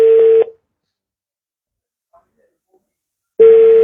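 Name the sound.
telephone being dialed for a call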